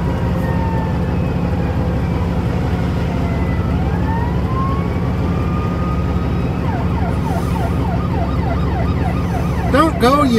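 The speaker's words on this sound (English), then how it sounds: "There's an ambulance right here" A wailing siren rises and falls amid loud, steady traffic rumble, sweeping through before shifting into a faster yelp near the end.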